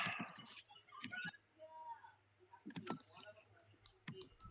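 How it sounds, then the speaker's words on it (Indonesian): Typing on a computer keyboard during a turtle-graphics loop coding lesson, heard as scattered light clicks and taps in short bursts, with people talking around them. "Aslinya ngetik aja."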